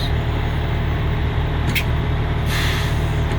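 Heavy trucks carrying well stimulation equipment rumble in at an oilfield location, a low steady engine drone with a short air-brake hiss midway and a longer release burst near the end.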